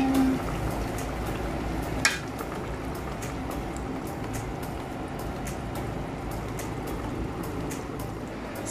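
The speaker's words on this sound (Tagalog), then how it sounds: "Kumukulo pa rin siya" Misua broth with carrot boils in a pot, giving a steady, dense bubbling hiss that runs the whole time, with one brief clink near the start.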